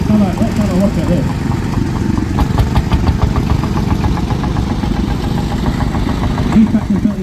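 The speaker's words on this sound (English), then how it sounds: "These vehicles got one cylinder and it runs front to back of the tractor." A Field Marshall single-cylinder tractor from Gainsborough, Lincolnshire, runs at a steam show with a steady, rhythmic low chugging throb that continues throughout, with the clatter of nearby activity around it.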